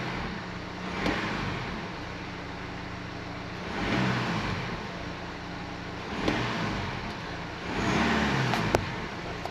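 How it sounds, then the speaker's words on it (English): A 2016 Mini Cooper D diesel engine with a drivetrain malfunction revs repeatedly as the throttle is pressed, several rising surges over a steady idle hum, close and moderately loud. "If I just jump on the throttle now"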